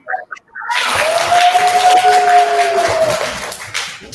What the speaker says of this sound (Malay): Okey, pandai. Tepuk tangan.